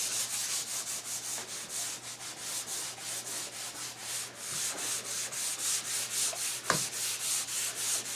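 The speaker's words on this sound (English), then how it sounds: "just do a knock the surface with a piece of 220 sandpaper" Sanding a cherry wood box surface by hand with 220 grit sandpaper, a steady rhythmic rubbing scratch in repeated strokes, close and moderately loud, with a faint low hum underneath and no talk.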